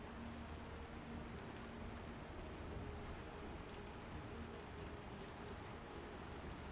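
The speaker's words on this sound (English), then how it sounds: "It's raining out here." Acid rain falling in the video game Star Citizen, a dense, steady hiss of downpour with no breaks, broad and moderately quiet, alongside a low rumble and no voices.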